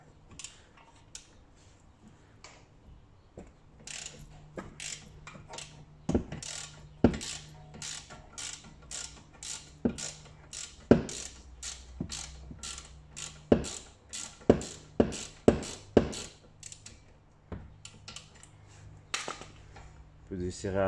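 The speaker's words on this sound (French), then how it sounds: "on met le cliquet" A ratchet wrench loosening a bolt on the brakes of a Mercedes CLA Shooting Brake, giving sharp repeated clicking bursts in uneven runs, close and clear over a quiet garage background.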